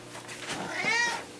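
A pet cat gives a single drawn-out meow close by, rising and falling over about a second, with no talk over it.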